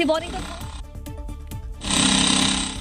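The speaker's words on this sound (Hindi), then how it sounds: "अवैध मदरसे पर ड्रिल मशीनें चल रही है" Drill machines break apart an illegal madrasa building during demolition, giving a loud, grinding roar broken by a stretch of sharp, rapid percussive hammering before the heavy drilling surges back.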